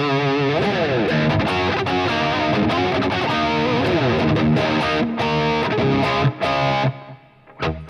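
An electric guitar played through a dry rhythm preset on a multi-effects unit chugs distorted chords and riffs loudly and continuously, with no talking, then briefly drops away at the end.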